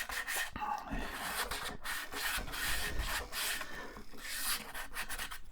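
A sharp carbide woodturning tool cuts wood spinning on a lathe during resin inlay work, making a continuous rough scraping and rubbing sound with small surges, fairly close but soft, with no talk.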